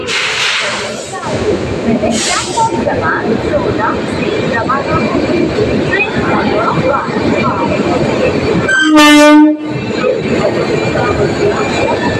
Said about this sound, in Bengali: ট্রেন নাম্বার 12-311 ঢুকছে প্ল্যাটফর্মে